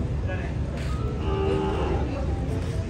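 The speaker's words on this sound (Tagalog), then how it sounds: "Itong mga kalabaw natin." Carabao water buffalo at a busy livestock market, a low drawn-out moo rising from a dense crowd murmur and people talking nearby.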